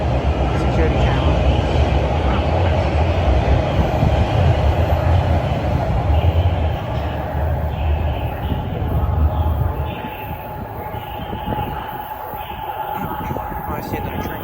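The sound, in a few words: TTC subway train at Highway 407 station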